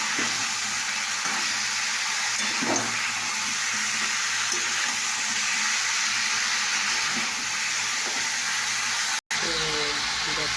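Potatoes frying in a pan are stirred, producing a constant close sizzle with occasional scraping knocks from the stirring, and someone talks over the cooking.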